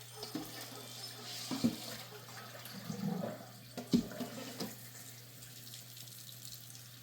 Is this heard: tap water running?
yes